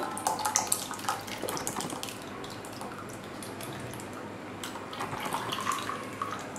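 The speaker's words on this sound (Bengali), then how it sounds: "এবার দইয়ের মিশ্রণটাকে আমি একটা মাটির পাত্রে ঢেলে নিচ্ছি" A thick mango yogurt mixture pours into a clay pot, giving a continuous wet splashing and trickling with a few stronger spurts near the start and end.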